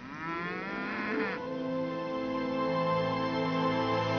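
Cattle moo in a long, drawn-out low call with a rising pitch sweep, heard clearly and alone at moderate distance.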